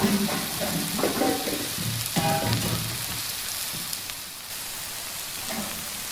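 Namak pare, pieces of crisp salted flour dough, deep frying in hot oil for a commercial-style batch, giving a steady broadband sizzle with a few stirring clatters early on, fairly close and with no talk.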